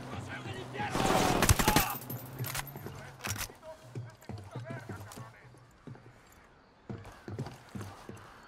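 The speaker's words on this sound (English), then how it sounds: "Opening fire on these fuckers." Gunfire breaks out in Ghost Recon Wildlands: a loud, dense burst of shots and then a string of sharp single cracks spread across the scene, with voices talking throughout.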